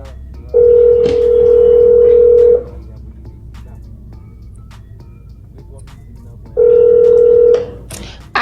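Telephone ringback tone during a phone call: two long steady tones separated by a pause of several seconds, clear and loud over faint background noise, with a brief voice near the start.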